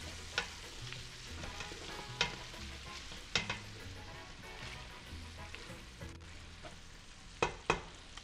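Bacon frying in a large pot, a faint steady sizzle broken by several sharp clanks of a utensil against the pot, with no voices.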